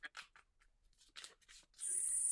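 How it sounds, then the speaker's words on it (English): A deck of cards shuffled at a clairvoyance show, a series of short riffling and flicking bursts close by, followed by a steady high hiss at the end. "And I've got the cards here. I was just going to say, tell me when to stop shuffling."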